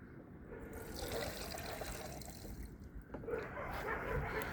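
Gasoline pouring into the fuel tank of a free lawn mower under repair, a steady close liquid splash and trickle running continuously with a brief dip midway.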